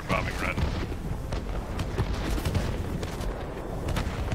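Low booming blasts and rumbling explosions from an aircraft bombing run in a video game, several irregular thuds and crackles under a man's speech.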